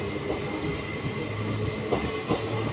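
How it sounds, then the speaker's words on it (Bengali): The 13152 Kolkata Express rolls into a station: a steady, loud rumble of train wheels with rhythmic clicks over rail joints and a faint high tone throughout, with no voices. "অন টাইম আমাদের ট্রেন এসে ঢুকছে"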